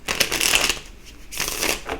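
A deck of cards is riffled in two quick bursts of crisp, fluttering snaps, close by, with a short pause between them.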